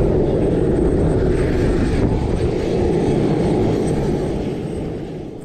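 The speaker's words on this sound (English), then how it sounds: "The passenger rides are busy with the aircraft and the helicopter about to take off." Aircraft engine running steadily at an airside Scottish air show and motoring event, a loud continuous broadband drone that holds level before easing off slightly toward the end, with no talking.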